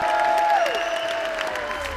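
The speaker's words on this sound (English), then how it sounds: "they deserve a round of applause" A crowd applauds steadily, the clapping forming a dense wash of noise with a faint tonal sound gliding beneath it.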